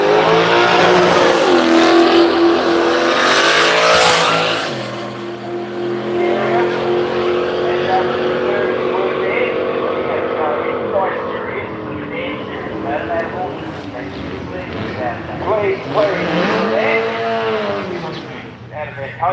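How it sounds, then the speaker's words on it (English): A Mopar big block engine in a street machine drag car roars loud and steady at a drag challenge event, with harmonic engine tones that dip and then rise again, and crowd noise and speech running underneath. "Nothing quite like a nice Mopar big block."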